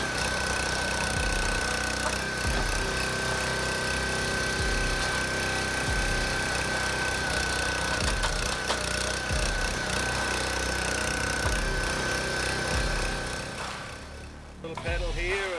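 An automatic firewood processing machine, the Mayho Slicer Dicer, runs loud and close with a continuous engine drone and repeated knocking, clattering bursts, easing off near the end, with talk over it.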